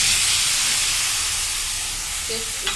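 Turmeric paste hits hot oil with chilli and sets off a steady, loud, close hiss of sizzling that holds evenly, with a small clatter near the end.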